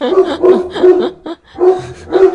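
A dog barks loudly and close by in a rapid series of about half a dozen sharp woofs, with a short break in the middle, interrupting a radio show recording.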